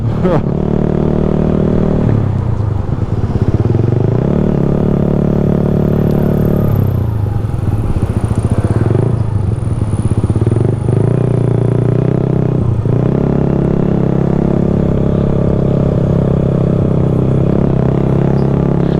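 A Honda Supremo motorcycle fitted with a loud aftermarket exhaust revs hard up close, a continuous deep roaring rumble that swells and dips through repeated throttle blips for the whole stretch.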